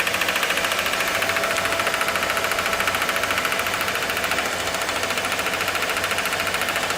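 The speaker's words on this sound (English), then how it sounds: "We're running the electric fuel pump" Electric fuel pump pushing diesel out of a vehicle fuel tank: a loud, steady mechanical buzz with a fast, even pulsing rhythm, close and continuous throughout, no talk.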